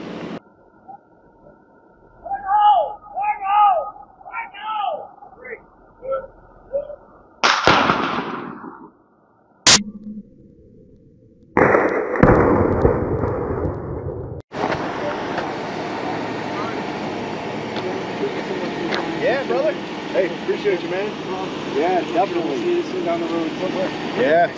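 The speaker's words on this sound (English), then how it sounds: "the bomb technician is going to shoot it" Outdoors in Ohio, a bomb technician fires a single sharp, loud shot at a bomb pulled up by magnet fishing, followed by a burst of rumbling noise; people talk beforehand.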